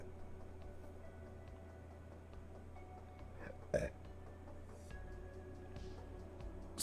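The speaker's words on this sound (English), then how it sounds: "Sorry for the burps." A person burps once, a short low belch standing out over steady room hum and faint background noise, followed later by a quieter second eructation at the very end.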